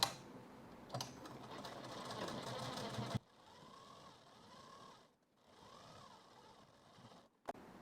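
A sewing machine runs in a dense, steady burst of stitching while a blouse is sewn, then stops and gives way to quieter handling with soft pauses and a brief click near the end.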